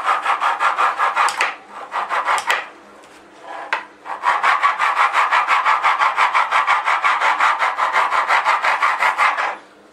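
A knife saws back and forth through a sponge cake, slicing it in half with a steady, rapid rasping stroke that is loud and close, pausing briefly before resuming a long even run.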